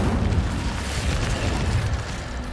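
A roaring burst of flame from an Incendio fire spell in Hogwarts Legacy, a dense, loud whooshing rumble that fills the moment without speech.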